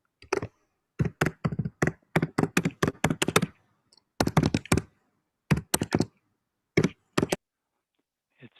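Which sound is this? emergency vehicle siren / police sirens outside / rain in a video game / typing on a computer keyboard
typing on a computer keyboard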